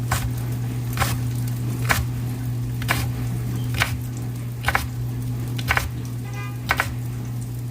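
Knife chopping food into thin shreds on a cutting board, about nine evenly spaced, crisp taps over a steady low hum, with no talk.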